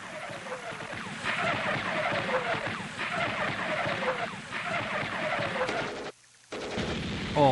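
Vietnam War battlefield gunfire and artillery, a dense continuous barrage of bursts and booms with a brief silent gap near the end, loud and sustained with no speech.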